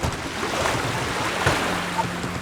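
Sea water sloshes and slaps steadily against a small fishing boat's hull as waves rock it with the engine off, with a low rumble and wind noise throughout and no voices.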